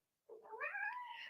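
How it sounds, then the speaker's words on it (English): A house cat gives a single drawn-out, rising meow, fairly faint and indoors, alone with no talk over it. "You can hear my cat Leo, who's moaning in the background"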